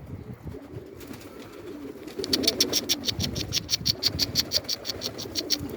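Pigeons or doves near feed being scattered for them, giving faint soft coos and rustling, with a run of rapid, evenly spaced chirps or clicks in the second half, fairly close.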